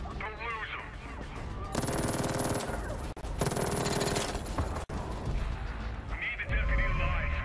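Far Cry 5 gameplay: sustained loud blasts and crackling detonations in dense bursts, with deep low rumble swelling near the end, while speech-like sounds weave in.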